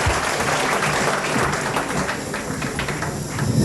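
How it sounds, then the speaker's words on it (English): A concert audience at the 1987 Cavan International Song Contest applauds steadily as performers leave the stage, a dense, even roar of many hands sustained throughout with no pauses. "Let them hear your applause as they leave the stage"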